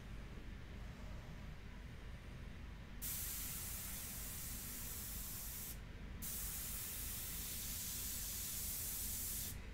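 An airbrush sprays India ink onto paper in a steady, close hiss that cuts in and out in short bursts as the trigger is worked, with no voices.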